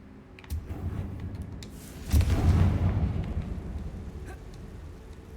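A Confringo spell from Hogwarts Legacy bursts into a loud, booming explosion that rumbles on and slowly fades, with a few sharp clicks just before it.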